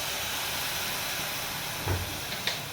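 A little water added to hot sugar caramel for motichur laddu gives a faint, steady steamy hiss, broken near the end by a couple of light clinks from a utensil.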